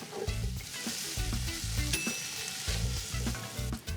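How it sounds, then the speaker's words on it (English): Onions, vegetables and rosemary fry in a pan with a steady, close sizzle. Bursts of stirring and scraping come at regular intervals, and no voices are heard. "So I cook the onions and the vegetables and the rosemary"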